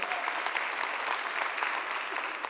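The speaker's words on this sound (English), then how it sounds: "Round of applause for our Congressman." Audience applause for a congressman at a Caribbean conference held at York College in Queens, a steady wash of many hands clapping throughout, moderately loud and continuous with no speech.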